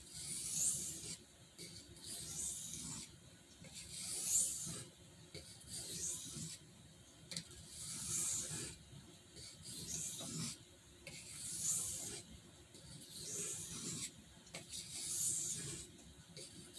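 A Rough Ryder RR2186 Denim Micarta Half Hawk knife blade rasps across a sharpening stone to remove the burr, in rhythmic back-and-forth strokes roughly every second, close and fairly quiet, with no talking.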